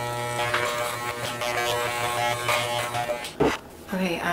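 Electric hair clippers buzz steadily while giving a woman a buzz cut on the head, a close, constant motor hum with brief scraping changes near the end.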